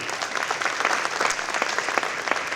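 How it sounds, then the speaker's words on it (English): A crowd applauds steadily, dense overlapping claps filling the room at a fairly loud, even level throughout. "first of all, an applause for Kamil"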